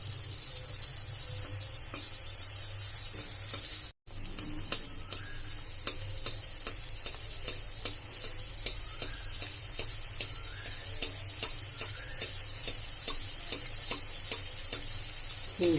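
Anarasa, a rice-flour sweet, fries in hot oil over a medium flame. A loud, dense, continuous sizzle with crackling pops goes on for the whole stretch, broken only by a split-second gap, and no one talks.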